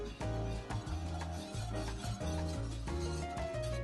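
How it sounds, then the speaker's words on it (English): A whisk working a butter and flour roux in a pan makes a close, continuous scraping and rubbing with a rhythmic back-and-forth pulse. Music plays underneath. "we're gonna whisk thoroughly so there's no chunks left in there"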